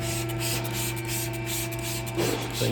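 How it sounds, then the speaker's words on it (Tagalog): Water sprayed onto a car's paint to lubricate the surface for clay bar detailing, a steady close hissing spray running continuously throughout with a slight change near the end. "Spray nyo lang na ganyan."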